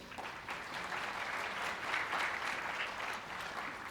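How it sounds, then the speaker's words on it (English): An audience claps steadily and evenly after a backstage volunteer from an elementary school is introduced at a middle school drama club's Matilda Jr. show, a dense wash of hands with no voices rising above it. "Miss Lisa Flusty, clap for her"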